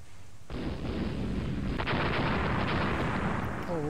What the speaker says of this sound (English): Oh, we're firing on all guns now.